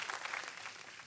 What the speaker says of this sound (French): On peut les applaudir parce que c'est magnifique.